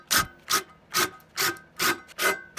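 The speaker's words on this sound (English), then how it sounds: "manually tapping by hand with a straight flute tap" A straight flute tap is turned by hand into a drilled hole in a steel CNC router frame. Six evenly spaced rasping cutting strokes come close up, one about every 0.4 seconds, with short quiet gaps between them.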